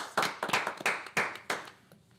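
A small group claps for Nancy, a newly sworn-in clerk, at a municipal work session. It is a brief, uneven burst of close claps that fades out after about two seconds.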